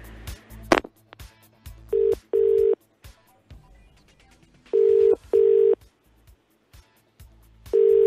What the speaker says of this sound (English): I'm giving you a ring on the phone.